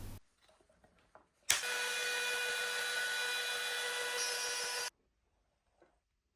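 A router runs steadily on wood during template routing for a desk build, one sustained high whining cut lasting a few seconds after faint handling clatter, then stopping into quiet.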